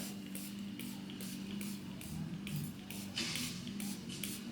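Quick repeated hissing spritzes from a spray bottle, roughly evenly spaced puffs, close by over a steady low hum.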